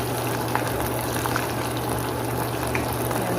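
Sausage sizzles in oil in a pan on the stove, a steady, dense crackling hiss that carries on loud and even throughout.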